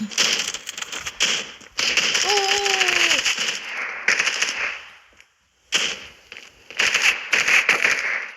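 Gunfire in the mobile shooter game Standoff comes as dense rapid bursts of sharp cracks, loud and close, broken by short pauses and near-silence, with a brief tonal game sound midway.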